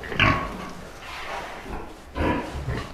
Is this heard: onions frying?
no